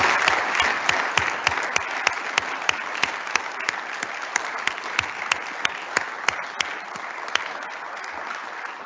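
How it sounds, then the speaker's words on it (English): An audience at a state of the state address applauds steadily for about nine seconds. The clapping is dense, with distinct sharp claps standing out from the crowd, and there is no talking over it. "Let's give all of these folks a great round of applause."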